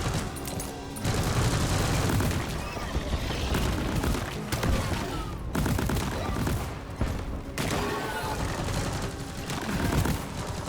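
Defensive turrets in Deep Rock Galactic firing in rapid, rattling bursts, loud dense gunfire broken by short pauses, with other combat noise around it.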